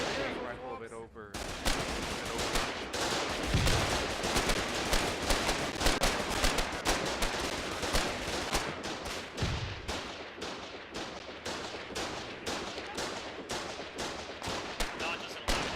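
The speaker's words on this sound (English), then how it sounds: "I eventually found an HMG and some ammo, and looked for a point that I could lay down suppressive fire." Heavy machine gun laying down sustained suppressive fire in a video game battle, with loud, close, continuous rapid bursts of shots that pause briefly before resuming.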